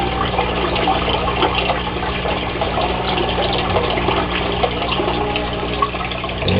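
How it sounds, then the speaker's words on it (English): Water drains steadily through a siphon in a Philippine aquaponics fish tank setup, a continuous close gurgling rush with no pauses and no voices. "this is siphon."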